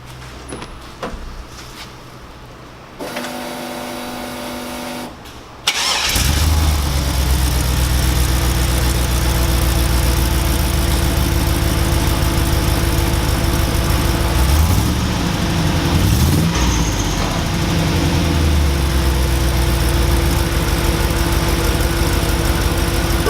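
A deep, steady engine idle of an LS-swapped Jeep Wrangler rumbles loudly and continuously through a MagnaFlow exhaust, with a low throb and a brief rev-like swell near the middle; no voices.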